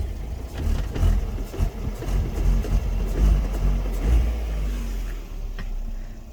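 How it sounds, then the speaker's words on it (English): A Fiat 500 1.4 Pop is driven along with a rumbly, uneven engine and exhaust drone, moderately loud from inside the car, swelling and easing with the throttle, with no talk. "Exhaust on this car sounds pretty good."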